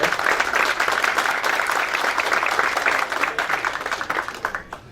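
Audience applause at an anniversary event for an organisation in São Paulo, a dense, steady wash of many hands clapping throughout before thinning out near the end.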